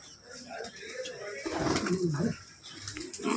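Soft, low pigeon coos rise and fall mid-clip against a noisy outdoor background, with people talking nearby.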